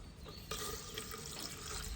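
Water from a bowl poured into a stew pot holding scraped grease and drippings, a steady splash and trickle that starts abruptly partway through and runs on at moderate loudness with no talk.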